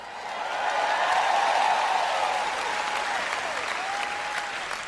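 Sustained applause from a church audience at a sermon, dense steady clapping filling the room, with a few faint whistles or shouts rising over it.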